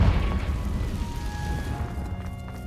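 A Confringo blasting spell going off in Hogwarts Legacy: a loud, deep, rumbling blast that fills the moment and then slowly fades into a low roar.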